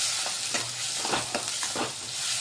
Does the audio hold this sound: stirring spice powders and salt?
yes